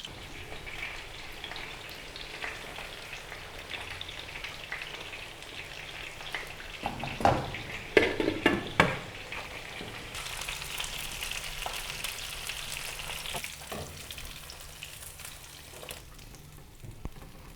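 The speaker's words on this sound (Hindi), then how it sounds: "इसी तरीके से हम बाकी की मछली भी शैलो फ्राई कर लेंगे" Fish pieces shallow-fry in a pan for a fish curry with a steady, close sizzle. A brief burst of clattering and louder spitting comes midway, then the frying settles back to an even hiss.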